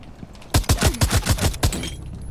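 A rapid string of about eight pistol shots in the Rainbow Six video game, loud and close, fired in quick uneven succession and then trailing into a quieter tail.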